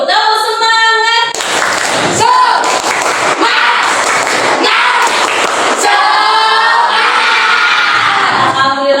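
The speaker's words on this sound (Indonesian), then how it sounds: "Tepuk semangat." A class of students in an Indonesian classroom does a rhythmic spirit clap, sharp bursts of clapping in a set pattern mixed with loud group chanting and shouting voices throughout.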